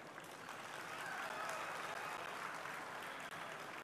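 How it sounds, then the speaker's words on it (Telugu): An audience at a public stage event applauds steadily, a broad wash of many hands clapping at moderate distance, quiet overall and sustained without a break. "కిషన్ రెడ్డి గారి గురించే మనం ఎక్కువ చప్పట్లు కొట్టాలి"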